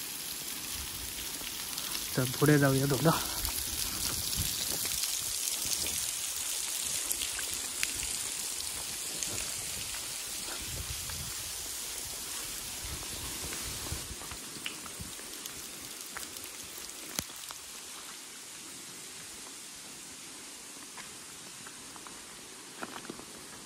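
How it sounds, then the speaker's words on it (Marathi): Water from Baba waterfall at Kumbhavade pours down from above in a constant rushing roar, with a person speaking briefly over it near the start. "त्या बघा वरून पाणी पडता खाली"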